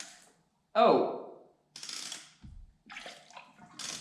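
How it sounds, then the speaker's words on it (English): Water spurts and gurgles out of a flooded Yamaha FZ6 Fazer motorcycle engine as it is turned by hand with the spark plugs out, coming in short bursts separated by quiet pauses, with a ratcheting mechanism. "there is a bunch of water coming around"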